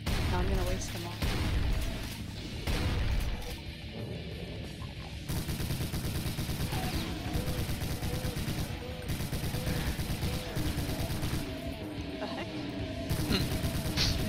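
Repeated shotgun blasts in Doom 2 come in quick, loud, dense bursts, mixed with crashing impacts and game noise throughout, while a player talks over the action.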